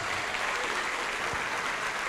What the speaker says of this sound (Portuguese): E vamos aplaudir mais ao Senhor Jesus.